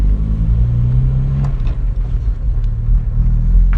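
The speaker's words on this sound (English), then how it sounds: "Try to get into second gear." A 1963 Jaguar Mk II pulling away on a road in Joetsu, Japan, its engine a loud, close, steady rumble while the driver works it up into second gear.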